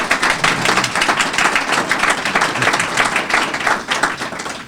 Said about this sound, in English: If we can have a round of applause for her